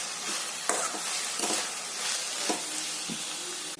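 Egg bhurji masala with turmeric and mint is stirred in a hot pan, a soft continuous sizzle broken by several distinct spatula scrapes and taps against the metal, close and fairly quiet.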